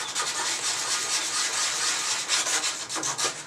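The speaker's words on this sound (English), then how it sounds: "I've got some 120 sandpaper" Steady scratchy rubbing of 120-grit sandpaper being worked by hand over a painted washing-machine surface, continuous and close with slight rhythmic strokes, no talking.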